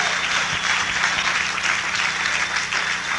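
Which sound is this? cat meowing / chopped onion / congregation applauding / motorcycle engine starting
congregation applauding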